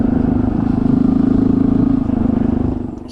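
A Honda CT 125 motorcycle rides on hard packed dirt with a close, loud, steady engine putter and a pulsing exhaust note, easing off at the end.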